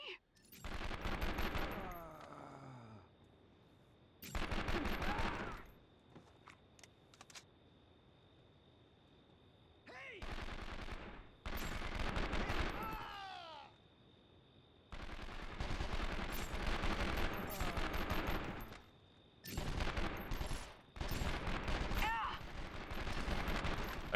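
Repeated bursts of gunfire in the action video game 24: The Game, loud volleys separated by short pauses across the span, with occasional faint voices in the background.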